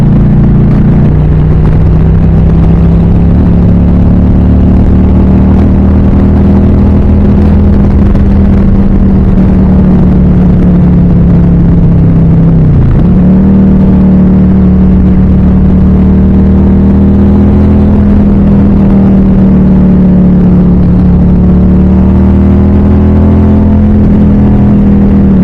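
Engine of a 2022 Harley-Davidson Street Glide drones loudly and steadily while riding, its pitch rising and dipping slightly with throttle over a continuous road rush.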